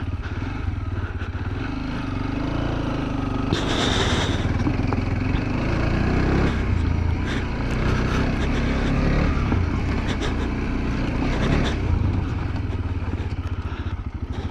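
A TVS Apache RTX 300 motorcycle works its way off-road, its engine droning and revving in surges as the bike skids and slips over loose ground, with occasional clattering bursts.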